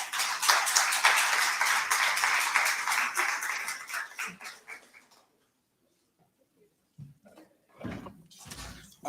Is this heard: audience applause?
yes